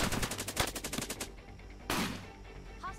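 Rapid automatic gunfire in the Cepheus Protocol game, a fast burst of close, loud shots for about a second and a half, then a short pause and one more heavy blast.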